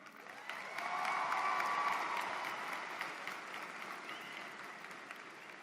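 A large graduation ceremony crowd at Southern New Hampshire University bursts into sustained applause and cheering, swelling loud within a second and holding as a dense roar of clapping with whoops and shouts before slowly tapering.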